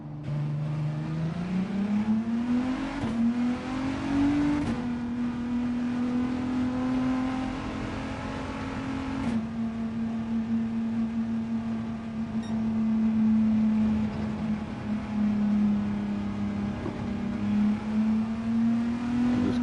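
A car engine in Gran Turismo 7 idles steadily, a continuous low hum whose pitch creeps up slightly a few times, heard on its own at low volume.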